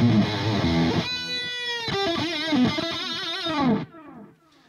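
Electric guitar through a One Control Purple Plexifier distortion pedal with the mid control turned fully down gives a loud, fuzzy, scooped chord and then several ringing bent notes before cutting off abruptly into near silence.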